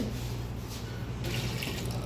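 Water pours into brownie cake ready-mix powder with brown sugar, a steady soft splashing trickle from close by with a low hum underneath.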